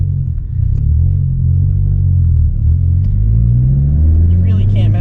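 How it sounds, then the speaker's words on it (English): A Ram 1500 pickup truck accelerating at full throttle nearby, a loud low engine rumble and rising roar heard from inside a moving car under road noise, with someone talking over it. "There's a Ram 1500 flooring at you."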